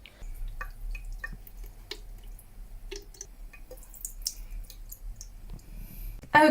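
Water trickles and drips into the small reservoir of a Fairywill 5020 water flosser, with light clicks and plastic handling noises, ending in a brief louder clatter.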